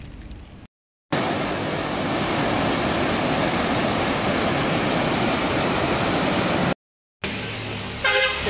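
Heavy rushing water along a muddy dirt road after rain, a loud steady broadband roar that fills the clip, broken by two brief gaps.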